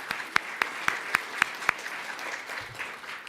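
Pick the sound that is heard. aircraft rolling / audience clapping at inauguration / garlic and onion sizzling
audience clapping at inauguration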